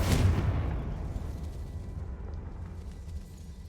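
Bombarda and Confringo spell explosions in Hogwarts Legacy, a single heavy blast at the start with a deep boom that rolls off into a long, fading rumble and debris-like crackle, fairly distant and quiet overall.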